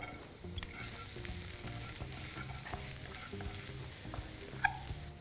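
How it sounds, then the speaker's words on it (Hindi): Garlic, onion, ginger and green chili stir-frying lightly in a pan, a soft continuous sizzle with occasional faint utensil taps, close and quiet. "just a light saute, without browning it"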